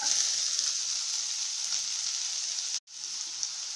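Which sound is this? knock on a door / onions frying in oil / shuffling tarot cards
onions frying in oil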